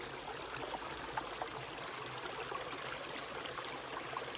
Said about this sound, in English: Little tiny water feature.